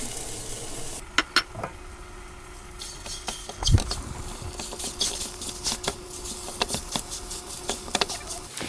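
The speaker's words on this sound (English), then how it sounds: "we're gonna add our ground pork, seasoned ground pork sausage into our pan, and we're gonna brown that" Seasoned ground pork sausage browning in a pan, a constant sizzle broken by scattered clicks and scrapes as it is stirred and separated, with one heavier thump near the middle.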